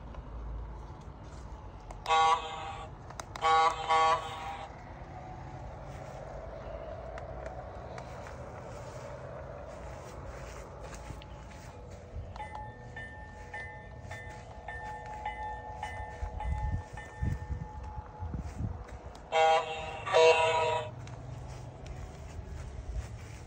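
Horn of a model train locomotive fitted with a Phoenix sound system, running on a home layout at night, sounds in two short paired blasts near the start and again near the end, with quieter running sounds between.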